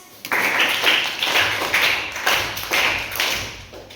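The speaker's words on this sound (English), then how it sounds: "very good answer. Claps." A classroom claps for a good answer with a run of steady, evenly spaced group claps, close and moderately loud, lasting a few seconds.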